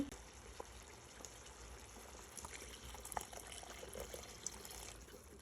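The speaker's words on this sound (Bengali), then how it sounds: "একটু পানি দিয়ে দিলাম একটু ফুটে আসুক" Water pours into a cooking pot of eggplant and potato curry, a steady low splashing and trickling close by with small clinks, lasting several seconds without speech.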